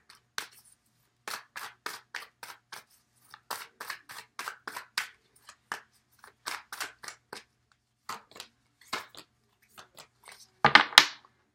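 Tarot cards being shuffled and pulled from a deck, heard as a quiet series of crisp riffling and snapping bursts in uneven rhythm, with a louder flurry near the end and no talk over it.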